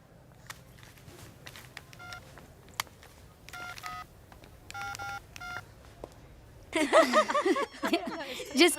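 A phone number is keyed in on a borrowed telephone: a series of separate DTMF tones, a couple of them in quick pairs, sounding clearly in a quiet room. Animated talk and laughter break in at the end.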